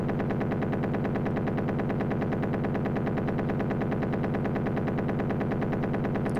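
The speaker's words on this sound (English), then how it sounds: "Strafing run." Rapid, steady machine gun fire from an Amiga video game strafing run, loud electronic bursts repeating continuously and evenly throughout, alone with no talk.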